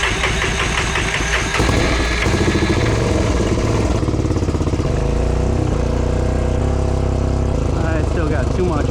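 A Honda TRX350 Foreman ATV engine running while riding around, a loud, close, chugging motor with uneven throttle changes throughout.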